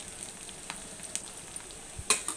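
Brinjal fries in oil in a pan with onion, green chilli, curry leaves and cumin, giving a quiet crackling sizzle with small pops and a sharper scrape at the end, heard close with no talking.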